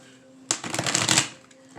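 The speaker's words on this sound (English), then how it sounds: "I'm going to shuffle once." A quick riffle of tarot cards being shuffled, a burst of crisp flutter lasting under a second, close and clear against a quiet background.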